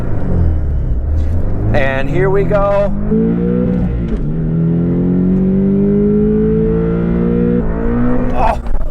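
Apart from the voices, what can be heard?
Porsche 718 Boxster T engine revving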